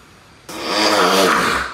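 A man snores on surveillance camera footage: one loud, long rasping breath starts abruptly after a near-silent moment and holds steady to the end.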